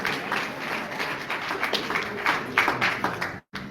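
An awards ceremony crowd applauds an artist with loud, close clapping and a few sharper individual claps, then the sound cuts out abruptly near the end before resuming briefly.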